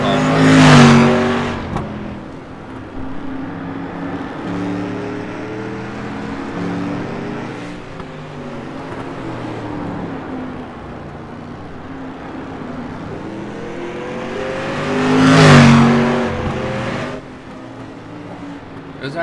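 Street stock race cars in iRacing roar past in two loud passes at the start and near the end, with steady engine drone and shifting revs between them and commentary talk over the top.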